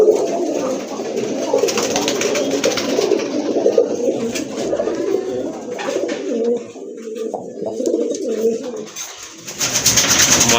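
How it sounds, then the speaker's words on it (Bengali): Pairs of English pouter pigeons coo steadily close by, overlapping low throaty calls with rustling and a brief dip before cooing resumes; no talk. "আরেক জোড়া কবুতর দেখতে পাচ্ছেন"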